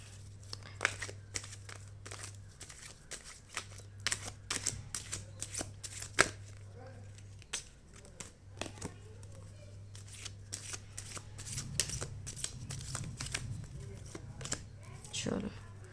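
Tarot cards are shuffled, handled and drawn one at a time. Close riffling and soft slapping card sounds come in repeated bursts, with someone speaking quietly throughout.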